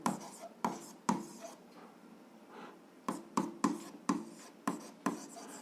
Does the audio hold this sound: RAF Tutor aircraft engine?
no